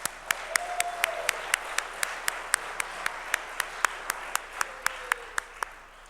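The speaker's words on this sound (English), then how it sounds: "Can we give them a round of applause, please?" Clapping at a Hall of Fame induction ceremony for a college athletics class comes as sharp, evenly spaced claps in a steady rhythm, close and distinct over a quiet room with little background crowd noise.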